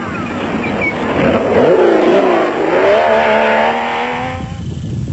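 Blue Chip Racing race car with a 3.5-litre Porsche engine at high speed in an off-road race in South Africa, loud close engine roar rising and falling as it passes, then fading.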